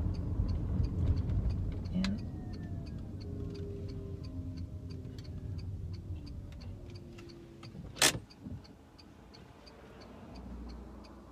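A car's turn signal ticks in steady, even clicks under a low engine hum inside the car, with one sharp knock partway through and no talking.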